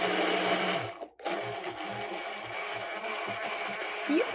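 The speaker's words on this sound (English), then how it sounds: "You can use this immersion blender for tons of stuff" Immersion blender whirring through chimichurri sauce in a home kitchen, a steady close motor drone with a short cutoff near the start before it resumes and runs continuously.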